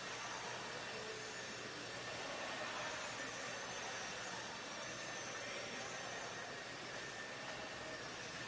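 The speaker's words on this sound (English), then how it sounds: "blowers are still going" Blowers run at an indoor RC race track, giving a steady, even broadband whoosh that holds fairly faint and unchanging throughout, with no voices over it.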